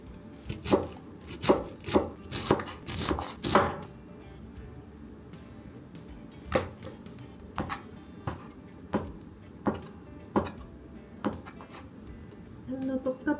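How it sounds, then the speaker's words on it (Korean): A knife chops ham on a cutting board in a home kitchen, first in a quick run of sharp knocks, then in slower scattered taps after a pause, with faint talk and light kitchen clatter behind. "햄도 똑같이 다져주고 같이 볶을 거예요."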